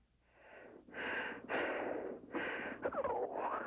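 A wounded man breathes heavily and raggedly, with about five loud, rasping, wheezy breaths in an irregular rhythm, close and alone.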